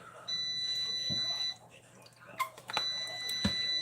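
Air fryer beeping as it switches off in a kitchen, a high steady electronic tone sounding twice, with clatter and a voice in the background.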